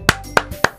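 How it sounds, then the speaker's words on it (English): Three sharp claps spaced about a quarter-second apart, close and alone, standing in for applause in the Doki Doki Literature Club video game. "Sayori finishes and we applaud."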